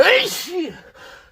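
A single sharp sneeze bursts out, followed by a short spoken word from a nearby voice.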